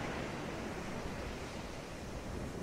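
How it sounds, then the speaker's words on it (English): Ocean waves washing onto shore as a steady, continuous hiss of surf, even in loudness and heard alone. "Let these rhythmic waves calm and soothe you."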